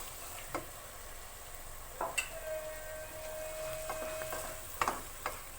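Mashed roasted eggplant bhurta stir-fried in a pan, a faint low sizzle with occasional spatula taps and scrapes, a thin steady tone running underneath, close and without talk.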